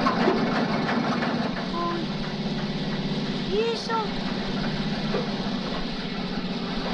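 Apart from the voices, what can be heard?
engine exhaust sputtering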